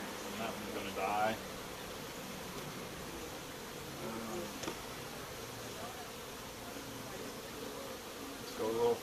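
A dense, steady hum of honey bees swarming around an open beehive fills the air at close range, with faint voices murmuring in the background.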